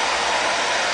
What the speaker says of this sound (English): It helps to have a hair dryer, so we'll put it on a warm setting